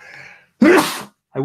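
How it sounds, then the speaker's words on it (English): A single sharp sneeze bursts out close and loud, preceded by a brief intake of breath and followed by a short voiced sound, during a live talk about mindfulness. "dump a sneeze upon you though."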